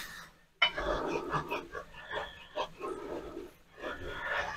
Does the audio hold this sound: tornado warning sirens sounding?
no